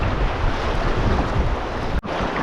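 River rapids and waves on the Teklanika River in Denali National Park rush steadily around a packraft, a loud, close wash of water and wind noise with a brief dropout near the end.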